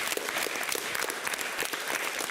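Spectators at a school sports competition clap for the yellow-shirted second-place team, with brisk, fairly close applause that is dense and continuous throughout.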